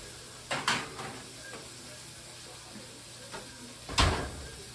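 Kitchen oven door opened and shut to put biscuits in, a couple of sharp clunks near the start and a louder bang near the end, with faint rattling in between over a steady low hum.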